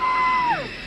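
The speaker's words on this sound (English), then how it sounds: "Let me hear a big loud scream on the count of 3" An audience at Warwick Castle gives a short, loud collective scream on a count, one brief burst that rises and quickly fades.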